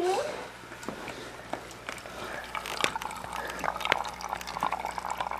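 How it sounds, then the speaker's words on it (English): Water trickles and drips through an MSR hand-pump filter, small irregular splashes and a light running trickle under people talking nearby. "Oh, you're getting some water there. You're getting it through the filter."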